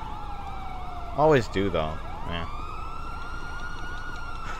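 A police car siren in GTA 5 with the LSPDFR mod wails in rising and falling sweeps throughout, loud and close, while someone speaks briefly over it and short yelp-like bursts cut in.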